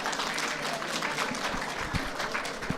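Audience applause in a lecture hall at a talk on the meaning of evaluation, a dense steady patter of many hands clapping throughout, moderately loud and even with no voice on top.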